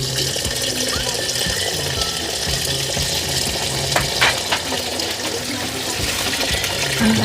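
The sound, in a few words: pouring second coconut milk into sticky rice for biko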